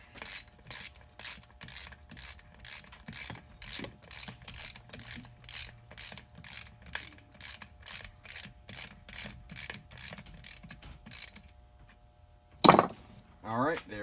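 A hand ratchet clicks in quick, steady strokes, tightening a bolt on an NP 205 transfer case during reassembly, with a brief pause near the end before a sharp clank and a few more clicks.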